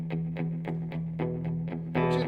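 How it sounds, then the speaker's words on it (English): An electric guitar runs through a REVV D25 combo amp with the reverb dimed, giving roughly even, repeated picked notes over a sustained low tone. Each note leaves a roomy wash, and a denser strummed chord closes it. "I'm gonna go ahead and dime it just so you guys hear how much reverb there can be."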